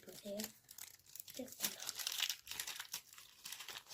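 Crinkling and tearing of a small plastic wrapper as a collectible sticker packet is ripped open, in short crackly bursts mixed with a person talking.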